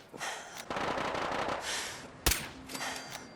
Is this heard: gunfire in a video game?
yes